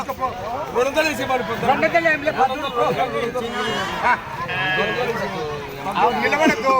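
Sheep bleat repeatedly at a crowded livestock market in Allagadda, their wavering cries overlapping close by and at a distance, with constant crowd chatter and people talking underneath.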